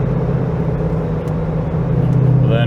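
Truck fitted with custom true dual exhaust accelerating on the interstate, a loud, steady low rumble and drone with a rising tone near the end.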